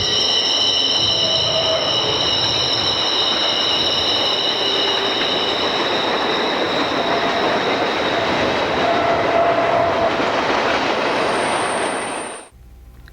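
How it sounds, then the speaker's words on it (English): A long Grand Trunk freight train of empty coal cars and auto racks rolls steadily past nearby, wheels rumbling and clacking with a sustained high wheel squeal throughout, fading out at the end. "observe how long this Grand Trunk train is"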